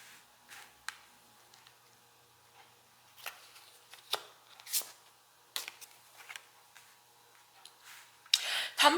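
Tarot cards being shuffled and drawn: soft, papery flicks and riffles in scattered bursts, quiet and close, with a louder flurry of card noise at the end.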